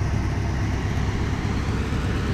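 A 1972 Lincoln Continental two-door coupe idles with a low, steady, quiet rumble that stays even throughout, heard alone without talk.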